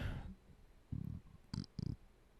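Two short, low gurgling belches close to the mic, separated by a brief pause, after an earlier softer rumble.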